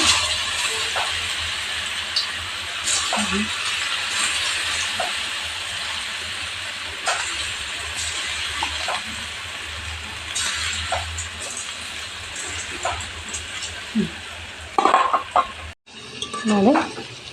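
Potato kebabs fry in hot oil while being stirred, a steady broadband sizzle running throughout with repeated scrapes and clinks of a utensil against the pan, close and moderately loud, ending in a few sharper knocks.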